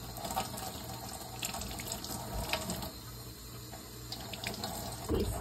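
Water runs steadily from a tap into a sink during handwashing with soap in a family home, a quiet continuous splashing stream with faint background sounds.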